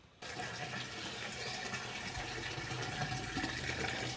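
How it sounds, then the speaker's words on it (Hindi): Water runs steadily into a container indoors, a continuous gushing, splashing flow that starts abruptly and holds at an even, fairly close level throughout, with no voices. "पानी भर रहा है।"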